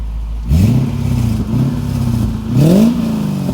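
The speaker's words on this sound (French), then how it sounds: "ça fait un peu spécial quand on voit l'accélération de la voiture" A 300 hp car, driven indoors in a showroom-like space, accelerates hard from standstill with a loud rising engine note, eases briefly, then surges again in a second sharp rev climb.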